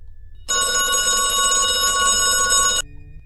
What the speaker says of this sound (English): My phone rang in my pocket.